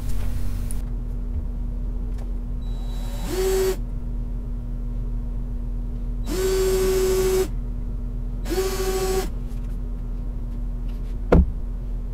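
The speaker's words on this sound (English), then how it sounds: "I'm just going to drill straight through the template and mark where the holes will go" Cordless drill boring pilot holes through a template into white oak for a backyard boat's bowsprit, three separate bursts of whining motor, the middle one longest, close up, with a steady hum underneath and a sharp tap near the end.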